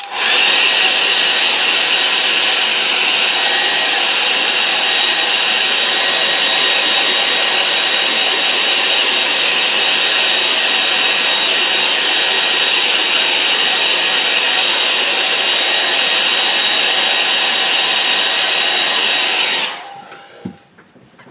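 A hair dryer blows at high power to dry a watercolour painting, a steady loud whirring roar that holds constant for about twenty seconds before switching off abruptly near the end.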